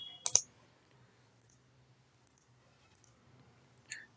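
A computer mouse clicks while someone navigates SAP Data Warehouse Cloud software: one sharp close click near the start and another at the end, with near silence between.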